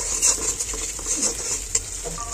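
Stone-ground noodles with eggs being stirred in a hot pan: a constant hissing sizzle with soft, irregular scrapes and pats from the spatula, close by and brief.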